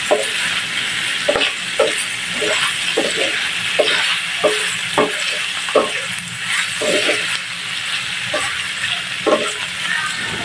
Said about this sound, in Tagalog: Hahalo-haloin lang natin ng konti. Hanggang ma-incorporate lahat yung